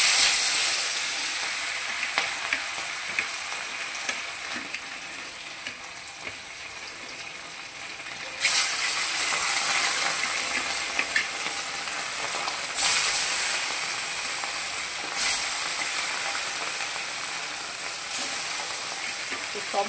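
Fish fry in a pan with a steady, loud sizzle and crackle that goes on the whole time. The hiss surges briefly now and then as pieces are added or turned.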